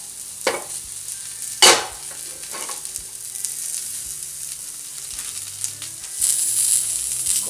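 Mushrooms sizzle on a griddle over high heat, a steady frying hiss with a few sharp scraping stirs near the start and a brighter, louder sizzle flaring near the end, no voices.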